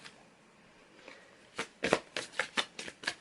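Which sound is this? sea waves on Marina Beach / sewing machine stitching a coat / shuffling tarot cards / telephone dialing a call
shuffling tarot cards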